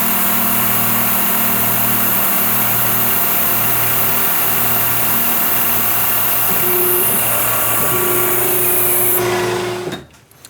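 A CNC machine runs a program drilling holes in a spindle mount, a steady high spindle whine with pulsing motor tones and mechanical hum, cutting off sharply near the end.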